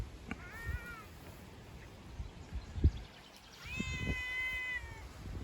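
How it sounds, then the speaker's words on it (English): A domestic cat meows outdoors in a country garden near a pear tree, two drawn-out cries about three seconds apart, the second louder and longer, over quiet rustling background. "Oh, just a cat."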